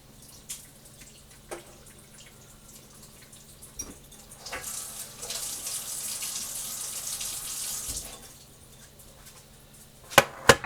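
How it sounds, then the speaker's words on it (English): Juice from a roast beef being drained into a sink, first a few light drips and clinks, then a steady pour of liquid for several seconds, ending with two sharp metallic knocks. "So I'm going to drain our roast beef."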